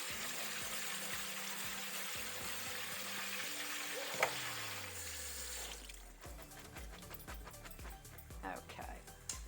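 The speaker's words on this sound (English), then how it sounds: "I'm going to dump them in here. And just rinse these beans." Canned black beans rinsed in a small colander under a running kitchen tap for a vegan chili, a steady close wash of water that shifts and thins partway through as the beans are moved.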